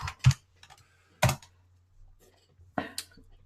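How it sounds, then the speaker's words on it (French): A few isolated keystrokes on a computer keyboard as someone types a word into a search box, sharp clicks spaced unevenly with short pauses, close and clear with no talking. "je vais aller sur Google et je vais taper kangourou"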